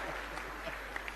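Audience applause during a comic Hindi poem recital, a brief, steady wash of clapping from a crowd, fairly faint and even throughout.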